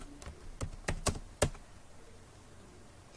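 HTML code tapped out on a computer keyboard, a handful of crisp, close keystrokes in a quick, uneven run, then quiet.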